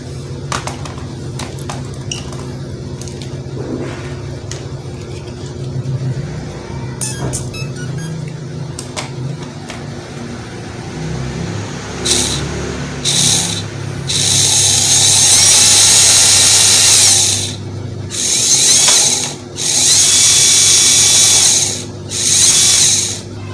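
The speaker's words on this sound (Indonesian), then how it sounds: "Sekarang kita coba lihat performa motornya." A WLtoys 24438 1/24 scale RC car with an upgraded motor and gearbox whirs and grinds at first, then rises into a loud, high electric whine in several sustained bursts separated by brief pauses.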